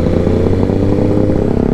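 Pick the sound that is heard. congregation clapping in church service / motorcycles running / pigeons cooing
motorcycles running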